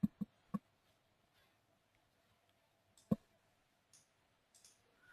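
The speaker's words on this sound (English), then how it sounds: "just click OK" A few crisp mouse clicks on software buttons, a quick cluster of three near the start and a single sharp click about three seconds later, close and isolated in a quiet room with a faint background hum.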